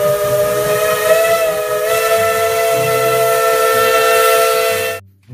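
Toy Thomas train whistle sound effect blows a loud, sustained steam-whistle tone with hissing, lasting about five seconds before stopping abruptly, no voices.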